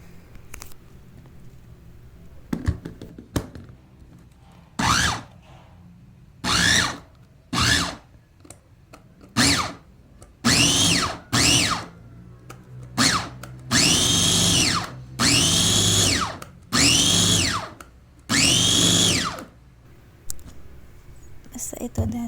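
An electric food grinder chops strawberries for jam in short bursts, with about a dozen whirring pulses separated by pauses, and a person speaks quietly between them.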